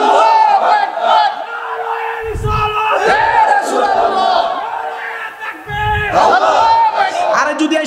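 Large crowd chanting the takbir, Allahu Akbar, in loud unison at a Bengali religious gathering, answering a leader's voice in repeated rhythmic call-and-response swells.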